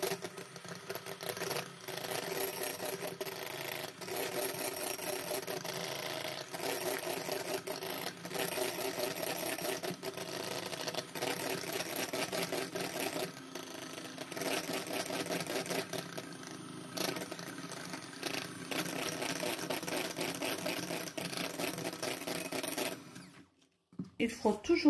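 Electric whisk beating egg whites while caster sugar is added gradually, for a coffee mocha cake with buttercream: a steady, continuous whirring drone that runs unbroken for the whole stretch and cuts off briefly near the end.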